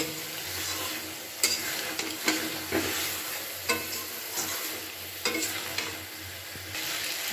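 Mustard and poppy seed paste sizzles steadily in a hot pan with chopped coriander and sugar while a utensil scrapes and knocks against it every second or so as it is stirred, for sheem paturi.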